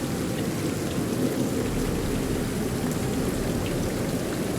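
Steady, dense rain pours without pause under a dark storm, a broad close wash of rainfall with faint low rumbling that suggests distant thunder, and no voices.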